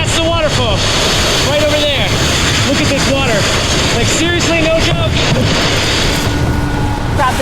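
Rushing floodwater close beside a waterfall, a loud, continuous roar that fills the whole stretch, with wind buffeting the microphone and a voice calling out over the din.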